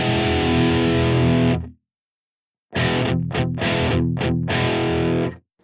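Electric guitar through a FET overdrive in a Fractal AX8 drive block, loud sustained distorted chords ringing out, a pause of silence, then a series of choppy, rhythmically muted chord stabs before another held chord.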